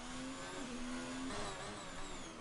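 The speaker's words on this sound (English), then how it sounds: "Wow, he really is revving it." Formula 3 race car engine in a Singapore round revs high and holds a buzzing whine, dips briefly, then climbs again as another car passes, steady and moderately loud, with no talk.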